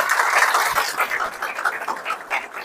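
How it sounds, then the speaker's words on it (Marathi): Applause from an audience at a Buddha statue installation ceremony in a vihara, a dense patter of hand claps that holds for a few seconds and then thins out slightly. "इथे गणेश किनीकरांसाठी टाळ्या वाजवा बरं"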